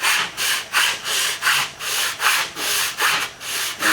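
A wooden guitar bridge is rubbed back and forth on sandpaper to match the radius of the guitar's face, giving a rhythmic series of about ten close, even scratchy strokes with no talking.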